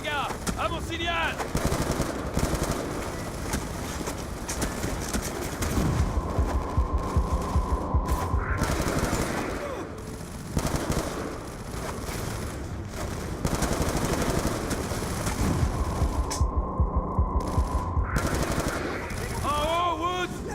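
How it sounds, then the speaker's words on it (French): Sustained machine gun fire in the video game Call of Duty Black Ops 2, loud and dense bursts rattling almost continuously, with game voices and battle noise underneath. "Ils ont une mitrailleuse retranchée sur le balcon!"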